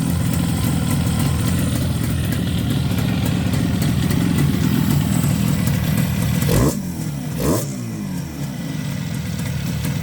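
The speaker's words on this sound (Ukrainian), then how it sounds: "Завожу, слухайте звук. Обороти мінімальні." An IZh Jupiter 5 motorcycle engine idles steadily at minimum revs with a low, even chugging, briefly interrupted by a couple of quick throttle blips before settling back to idle.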